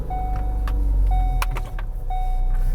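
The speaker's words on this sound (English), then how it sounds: "So I'm going to turn my car on." A car being switched on, with a low steady engine hum and three evenly spaced electronic chime tones about a second apart, heard up close from inside the cabin.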